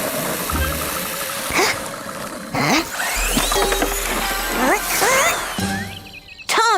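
A tuned-up toy race car engine in a cartoon revs and sputters in bursts, loud and close, with rising whines and knocking pulses between short pauses.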